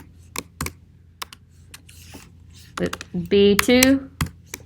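Typing on a computer keyboard while entering an average formula in an Excel spreadsheet: scattered sharp key clicks, then a quicker burst of keystrokes near the end, close and fairly clear, with faint talk.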